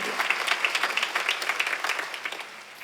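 Congregation clapping together during a Sunday worship service at a church, a steady, dense patter of many hands that fades slightly toward the end.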